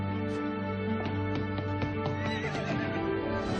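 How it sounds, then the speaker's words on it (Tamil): A horse-drawn chariot pulls up while a horse neighs and whinnies over steady clip-clopping hooves, close and fairly loud, with a held musical tone underneath and no talk. "உன்னை கூட்டிட்டு போக சேரிட் வண்டி வந்திருக்கு"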